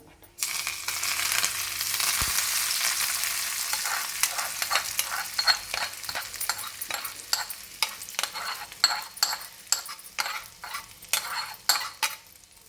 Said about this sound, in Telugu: నెయ్యి పోపు ఇందులో వేసేసుకోవాలి.